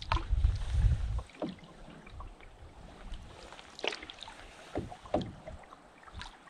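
Canoe paddled solo along a flooded, marshy river, with faint water strokes and drips at irregular intervals over light wind rumble, a heavier low gust at the start.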